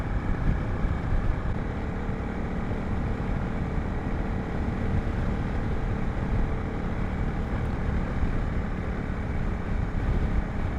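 A Honda CRF 300 Rally motorcycle cruising steadily along a mountain road, its engine drone continuous and loud, blended with heavy wind rush and no speech.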